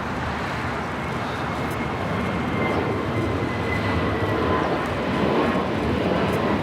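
A Boeing 747 jet flies over at LAX airport with flaps extended, producing a loud, continuous broadband roar that holds steady throughout.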